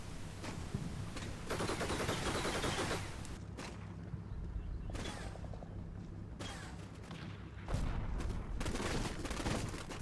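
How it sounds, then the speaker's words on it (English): Distant machine gun fire rattles in a Combat Mission war game, with bursts of rapid shots and booming explosions recurring across a quiet, rumbling battlefield background. "hurried along by red machine gun fire"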